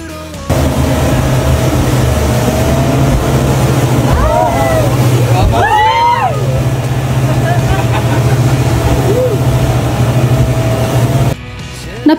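A fast boat crosses choppy sea toward another island near Boracay, its engine roaring loud and steady throughout with brief whines rising over the drone.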